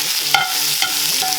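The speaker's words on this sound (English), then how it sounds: "going to saute that into the fat of the steak" Sauteing in rendered steak fat in a hot cast iron pan with the heat switched off, a steady soft sizzle broken by a few sharp scraping stirs, close by, with no talking.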